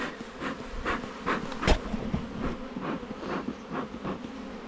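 Honey bees buzz around the outside of their hive on a rainy winter day in Melbourne, a steady, dense swarm hum close to the listener with no talking.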